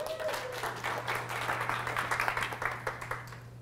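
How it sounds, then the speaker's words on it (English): A conference audience claps for themselves, a moderate patter of hands with a steady low hum underneath, the clapping thinning into sparser, individual claps toward the end. "Give yourselves a round of applause."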